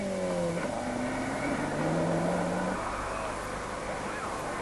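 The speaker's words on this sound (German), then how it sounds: "frei für Joachim Müller und Michael Humbach mit der Startnummer 1 Ford Sierra Cosworth." A Ford Sierra Cosworth rally car on a rally stage, wearing start number 1, goes past, its engine note rising and falling as it revs and then fades steadily with some distance.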